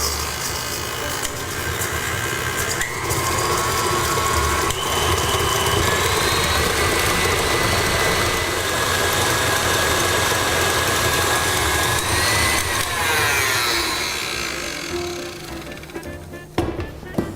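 An electric mixer beats softened butter for gingerbread cookies, a loud steady motor whir running for many seconds before slowing and stopping near the end.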